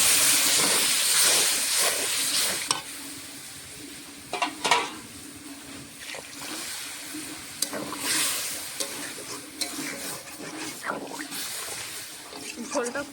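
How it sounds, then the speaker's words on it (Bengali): Fried potato, eggplant and banana flower hiss and sizzle in a pan after water is poured in, with bursts of steam and stirring, close by. A voice can be heard faintly in the background. "সবজিটা ভালো করে ভেজে নিয়েছি দিয়ে দেবো জল"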